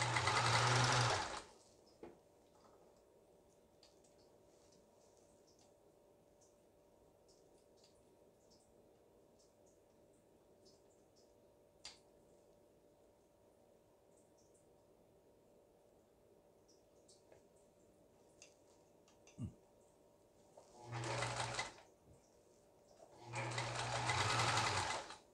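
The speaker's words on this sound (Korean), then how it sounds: "박음질이 잘 되는 걸 볼 수가 있습니다" A home sewing machine, a Rika 530 after gear replacement, runs in short loud bursts at the start and end, with a long quiet hum and faint clicks in between.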